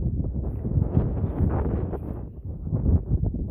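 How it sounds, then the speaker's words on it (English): Wind gusts buffet an outdoor microphone on a farm, a loud, continuous low rumble with rustling bursts rising and falling throughout, no voices. "it's still windy"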